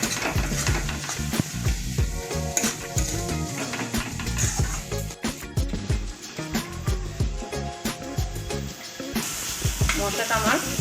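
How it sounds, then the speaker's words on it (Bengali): Kashmiri chili powder and spice masala stirred and fried in a pan for chana masala, a steady close sizzle with repeated scraping and clinks of the spoon against the pot throughout, no talking. "মশলাগুলোকে মিশিয়ে খুব ভালো করে কষিয়ে নেব।"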